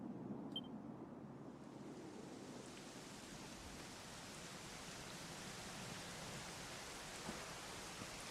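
Rain falls in the video game Dragon Quest XI S as a soft, even, continuous hiss. It is faint and steady, with no talking.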